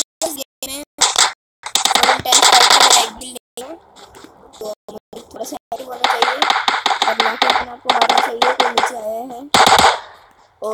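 Rapid automatic weapon fire from the mobile battle-royale game PUBG Mobile, delivered in dense bursts that repeat across the stretch, mixed with a person talking between and over the shots.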